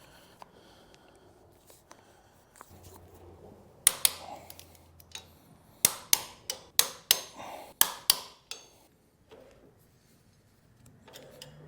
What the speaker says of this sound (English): I'm going to torque these down to 50 foot-pounds